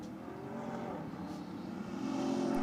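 A Nissan Patrol at a drag race gives off a low, distant engine roar under steady background noise. The engine builds slightly louder toward the end, and no one speaks.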